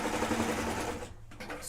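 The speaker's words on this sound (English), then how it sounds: "I'm just sewing all the way down the side seam" A sewing machine stitching down a garment's side seam, running steadily and loud for about a second before it stops abruptly.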